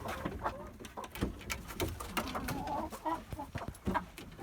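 Chickens clucking busily while eating a homemade feed mixture meant to boost egg laying, with several birds' short clucks and rustling close by, overlapping and irregular, and a person talking briefly at moments.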